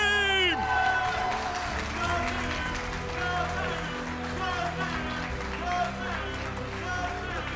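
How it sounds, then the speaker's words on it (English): A large crowd at a Pokémon GO regional championship in Dortmund applauds and cheers for the grand champion, a steady dense roar under an announcer's voice and ringing music. "Give a big round of applause for your grand champion."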